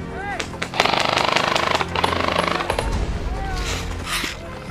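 Rapid gunfire bursts from a military shooter video game during a ghillie-suit joint operation, loud, repeated cracks layered with clicks and shouts from players talking over the shots.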